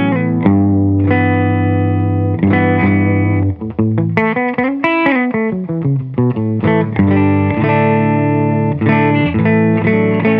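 Electric guitar through a Jfet Guitars OH-10 into a Silk Tone amp, playing sustained chords and a quick run of single notes, with a warm, slightly driven tone ringing out close and loud.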